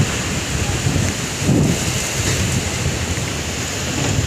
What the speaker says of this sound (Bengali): তীব্র মানে প্রচণ্ডভাবে ঝড় এসছে